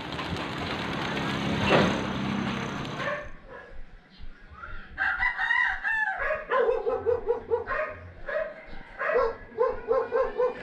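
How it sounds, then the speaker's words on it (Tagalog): A rooster crows repeatedly among chickens and other birds, with a dog barking nearby; a burst of rushing noise opens the scene before the crowing takes over. "Ayan po mga ibon."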